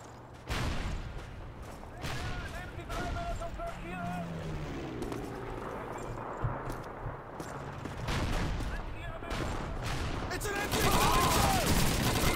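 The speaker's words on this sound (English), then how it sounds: "He's just shooting at the wall with his pistol" Pistol shots in Call of Duty 2, a burst of gunfire with repeated sharp reports set against a busy in-game battle din, while a voice talks over it.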